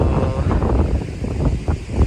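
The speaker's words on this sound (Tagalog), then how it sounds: "Grabe, ang lakas ng hangin. Sobrang lakas ng hangin." Strong gusting mountain wind on Mt. Pulag in the Philippines buffets the microphone in a steady low roar, with no voices, loud and close throughout.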